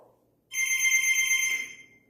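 A coded alien telepathy sound effect in a beginner programming project, a synthetic tone like a ringing telephone. It is one bright electronic trill that lasts about a second, clear and fairly loud, then fades out, with no talking.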